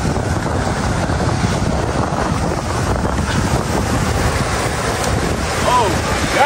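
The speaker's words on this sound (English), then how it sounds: "And it's windy." Strong wind buffets the microphone in a constant roaring rush, loud and close, with a faint wash like surf underneath.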